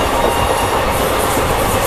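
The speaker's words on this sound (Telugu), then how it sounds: "ఉడ్నా జంక్షన్ ప్లాట్ఫామ్ నెంబర్ 1 అయితే ఉందన్నమాట ట్రైన్." Passenger train at Udhna Junction platform 1 on the Gujarat SF Express route, a loud, close rolling rumble with clattering wheels and faint squeal, continuous throughout, no talking.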